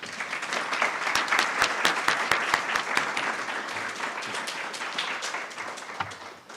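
An audience applauds to welcome a speaker at a formal talk, a dense wave of clapping close by that swells and then slowly fades over several seconds.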